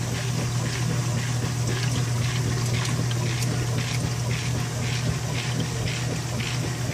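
A washing machine agitates steadily while stripping cloth diapers with bleach, with water churning and sloshing over a constant low motor hum for the whole stretch.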